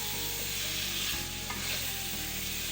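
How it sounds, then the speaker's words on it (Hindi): Chicken with tomatoes fries in a kadai while a utensil stirs it, giving a steady, close sizzle with scraping stirring strokes throughout and no voices. "थोड़ा सा और भून लेते हैं।"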